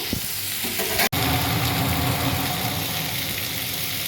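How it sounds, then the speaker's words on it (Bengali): Food frying in a pan with a steady, loud sizzle throughout, one sharp clatter of stirring near the start, no voices. "এবারে আমি একটুখানি ভাজা ভাজা করে নেব।"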